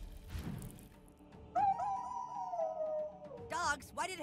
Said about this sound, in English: Dogs? Why did it have to be dogs?